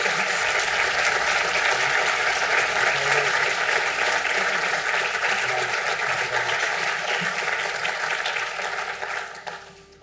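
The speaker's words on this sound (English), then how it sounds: "Can I ask all the graduates from the St. Angela's campus to stand for a round of applause?" A crowd at a spring conferring ceremony in Sligo applauds the St. Angela's campus graduates, a long, full wash of clapping that stays loud and even before tapering off at the very end.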